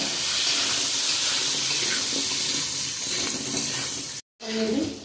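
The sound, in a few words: potatoes frying with salt and turmeric in a pan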